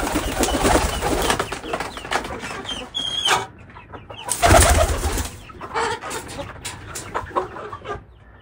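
Pigeons in a coop with newly hatched chicks give soft cooing and fowl-like clucks amid rustling and flapping, close and fairly loud, with a louder burst midway and continuous busy background noise.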